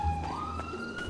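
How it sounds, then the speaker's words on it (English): Police siren in the video game GTA 5, a clear rising wail heard at moderate distance over a low rumble, briefly and without speech. "Why is this police sirens getting close?"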